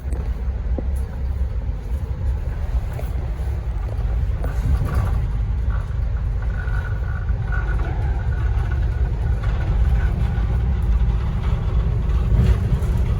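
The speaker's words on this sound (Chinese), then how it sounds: "我们的列车正在飞速前进" An Amtrak train on the Northeast Corridor runs at high speed, heard from inside the carriage as a steady, loud, low rumble with faint rattles and occasional high squeals throughout.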